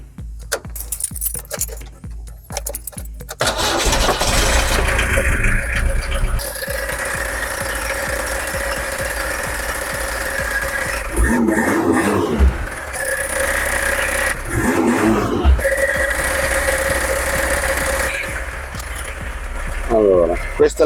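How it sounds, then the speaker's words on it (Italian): Keys jingle before a car engine is started for a sensor check and settles into a steady, even idle that runs for most of the clip, with people talking over it. "adesso accendo il motore e facciamo girare un attimino il tutto"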